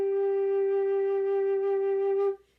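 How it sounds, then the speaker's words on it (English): A single sustained low G on a flute, held steadily for about two seconds and then released, clear and close with no talking over it. "It should sound like this, low G."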